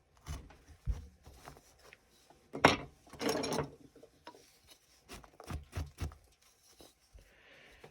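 A gouge scrapes and shaves wood while a small Santa figure is carved by hand, producing uneven close rasping strokes with short pauses between cuts.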